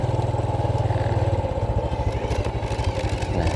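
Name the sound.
motorcycle riding around a large yard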